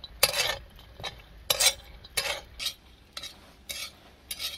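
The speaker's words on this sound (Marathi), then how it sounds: "आता मिरच्या बरोबर शेंगदाणं मिरच्या चटा चटा चटा चटा आता भाजून घ्यायच्या." Metal scrapes against a pan in a home kitchen while green chilies, peanuts and garlic roast, sharp rhythmic stirring strokes about every half second, close and clear with no talking.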